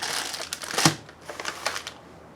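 Crinkly heat-insulating aluminum Mylar sheet handled up close: sharp, papery crackles and rustles in short bursts, one louder crumple near the start, with no voices.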